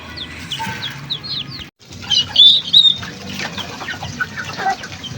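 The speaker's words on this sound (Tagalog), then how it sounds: "Ayan po, at pinakawalan na natin sa range. Ayan po, nagulo-gulo na yung mga sisiw dyan." Backyard chickens and chicks are let out onto a range to feed, with close clucking, chick peeps, and a flurry of wing flapping among busy scratching.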